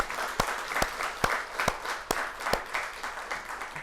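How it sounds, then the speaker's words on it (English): An audience gives a round of applause, with dense, continuous clapping and several louder, sharper claps standing out in a loose rhythm. A crowd murmurs faintly underneath. "I think we should give them a big round of applause"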